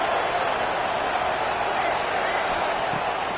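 Stadium crowd noise inside an NCAA football video game on third down, a steady, even roar of many voices with no distinct peaks, filling the whole moment.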